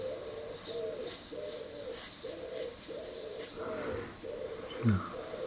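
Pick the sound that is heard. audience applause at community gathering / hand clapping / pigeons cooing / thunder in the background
pigeons cooing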